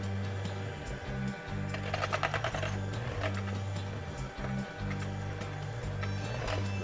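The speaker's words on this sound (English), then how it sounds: "we'll pick up the speed on the hand mixer to get to that nice and silky consistency" An electric hand mixer beats birthday cake frosting at raised speed, giving a steady mechanical whir with a rattling texture that briefly dips and resumes, close and moderately quiet.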